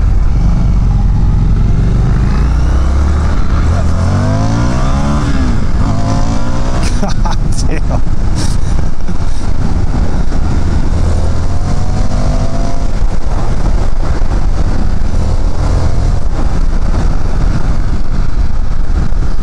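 A 2019 Indian FTR 1200 S motorcycle being ridden, its engine droning loud and steady throughout with rising and falling revs, heard beneath continuous wind noise and someone talking.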